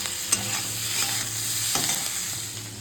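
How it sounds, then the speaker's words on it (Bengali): Chicken pieces frying for chilli chicken, a steady oily sizzle with a few scraping stirs of a spatula in the pan, close and continuous with no voices. "মানে আমার মতন করে আমি একটু ঝটপট চিলি চিকেন বানাচ্ছি।"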